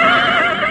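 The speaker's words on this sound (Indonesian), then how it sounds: "kuda itu tergolong kuda yang bagus" A horse gives a loud, close whinny, a single sustained wavering neigh lasting under a second.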